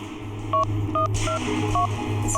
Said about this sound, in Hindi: तू ऐसा कर, उस नंबर पे डायल कर।